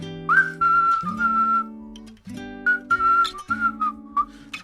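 A person whistles a simple tune in short held phrases, clear and close, with faint background sounds between notes.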